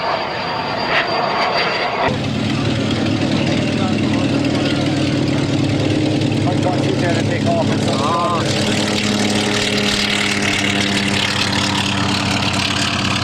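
Fixed-wing propeller aircraft engines droning at low speed, around 85 knots, during a low flypast at the 1997 Abbeyshrule air show in Ireland, a steady loud hum that swells after a couple of seconds and runs continuously.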